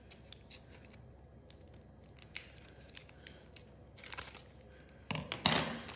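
Scissors snipping the thread ends of a crocheted doily, with quiet soft clicks at first and then a few louder, closer cuts near the end, over faint rustling and no speech.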